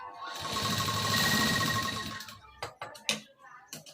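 Electric sewing machine stitching tucks along marked lines on a blouse, a steady buzzing run for about two seconds, then a few short bursts and clicks as the work stops and is adjusted.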